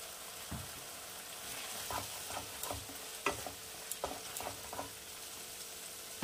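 Masala frying in half a spoon of ghee for aloo gobi, with a steady sizzle and intermittent stirring scrapes and taps. No voices.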